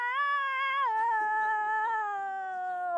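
A human voice imitates a cat in heat caterwauling at night, a long, loud, wavering yowl that holds for about three seconds and slowly sinks in pitch, close and alone.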